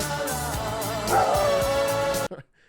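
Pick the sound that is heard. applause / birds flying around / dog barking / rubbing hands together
dog barking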